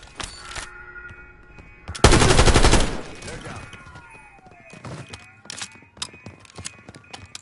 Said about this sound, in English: Machine gunner!